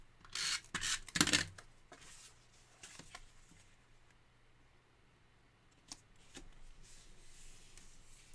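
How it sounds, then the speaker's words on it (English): Paper rustles and rubs in a few short, soft bursts as a card panel is pressed down with adhesive onto a handmade card, then quiet with a couple of faint taps later. "I'm going to go ahead and stick this panel onto our card"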